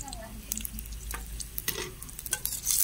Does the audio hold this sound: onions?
yes